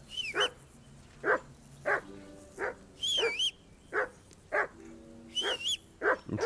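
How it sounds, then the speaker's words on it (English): Dog in a video game set in medieval Bohemia barking repeatedly, sharp nearby barks in an irregular series over a steady low background hum, with occasional higher yelping notes. "Get that mutt of yours to stop barking, will you?"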